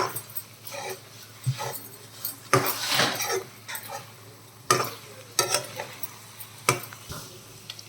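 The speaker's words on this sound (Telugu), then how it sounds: "హైలో పెట్టి ఫ్రై చేసుకోవాలండి ఇప్పుడు కాసేపు." Egg tomato curry frying on high heat in a pan, a soft sizzle broken by repeated sharp clinks and scrapes of a spatula against the pan, close and irregular.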